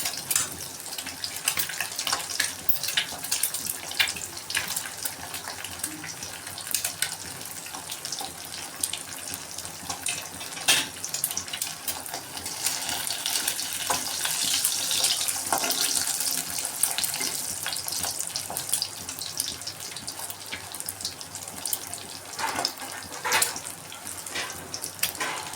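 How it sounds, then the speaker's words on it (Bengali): Eggs frying in a home kitchen pan for a spicy Bengali egg gravy, a constant bright hissing sizzle with small crackles, steady and close for the whole stretch without speech. "এরকম করে আমি ডিমগুলো সব ভেজে নেব।"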